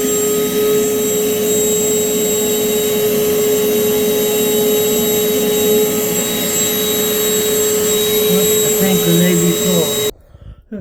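Shop vac running steadily and loudly for about ten seconds, a constant droning whine with whistling tones, used during replacement of a toilet with a water-saving power flush model, then cutting off abruptly at the end.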